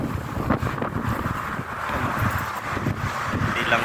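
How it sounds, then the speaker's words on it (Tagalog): Wind blows outdoors in a Saudi city, buffeting the microphone with a steady low rumble and gusts while someone talks over it throughout. "Tingnan po, may hangin ngayon."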